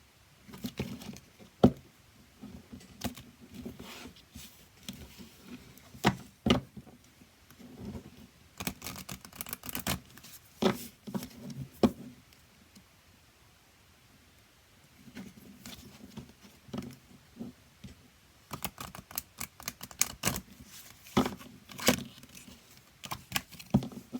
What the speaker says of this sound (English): I am going to shuffle because that is not shuffled properly.